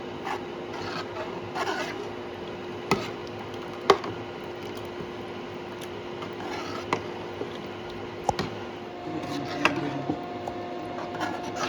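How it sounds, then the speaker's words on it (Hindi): Spices being mixed together in a bowl for a Wazwan-style baingan yakhni give a soft, steady rubbing and scraping texture, faint and continuous, with a few sharper clicks and taps scattered through it. "यहाँ पर सारे मसालों को हम अच्छे से मिक्स कर लेंगे।"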